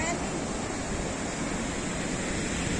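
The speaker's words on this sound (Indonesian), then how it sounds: "Oh, pantai Krakal ini." Surf washes continuously onto Krakal beach in Gunungkidul at low tide in late afternoon, a steady broad hiss of waves mixed with some wind noise and no clear breaks.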